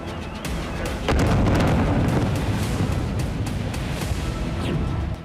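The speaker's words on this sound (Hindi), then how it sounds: "रूसी ड्रोन एक रिहायशी इमारत पर गिरा, जिसके बाद जबरदस्त धमाका देखा गया" A Russian drone strike on a residential building in Kharkiv, heard as a heavy, sustained explosive roar with rumbling low end and scattered sharp bursts, loud and continuous throughout.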